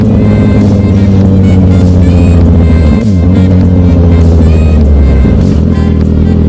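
A motorcycle engine runs close and loud, with a low throbbing rumble, a brief revving dip midway, then steady idling.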